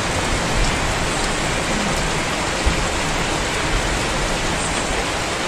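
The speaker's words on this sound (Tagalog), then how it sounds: "Grabe yung ulan." Heavy rain roars continuously, a thick unbroken wash of drops with a few louder splashes standing out.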